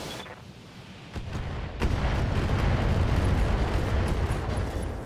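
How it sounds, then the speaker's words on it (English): Heavy mech weapons in the BattleTech video game pound a target, a few sharp blasts followed by a loud rumbling barrage of explosions that builds and sustains to the end. "Firing on target."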